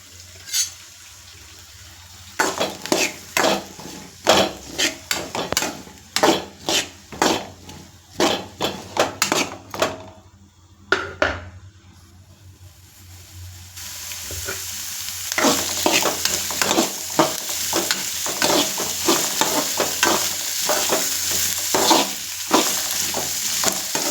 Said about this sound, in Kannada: ಹೆಚ್ಚಿಟ್ಕೊಂಡಂಥ ಈರುಳ್ಳಿ, ಕರಿಬೇವಿನ ಸೊಪ್ಪು, ಕೊತ್ತಂಬರಿ ಸೊಪ್ಪು ಇದಿಷ್ಟನ್ನು ಚೆನ್ನಾಗಿ ಫ್ರೈ ಮಾಡ್ಕೋಬೇಕು